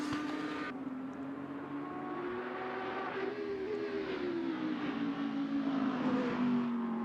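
Racing car engines scream at high revs around Spa-Francorchamps in the Assetto Corsa sim, a strong tonal whine rising and falling as the cars run flat out, loud and continuous with no talking.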